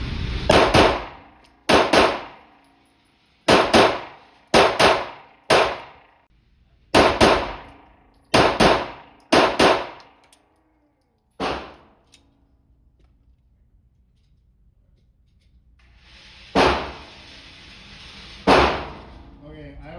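A Glock 19 fitted with a Strike Industries Mass Driver compensator fires double taps at 10 yards, loud sharp shots in quick pairs repeated several times, then a quieter gap and two more pairs near the end.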